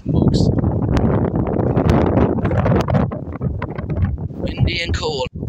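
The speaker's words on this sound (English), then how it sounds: "Out in the cold wind by the rain barrel." Cold wind blows outdoors beside a rain barrel, buffeting the microphone in loud, rough gusts that ease off toward the end, and a few brief knocks and rustles are heard.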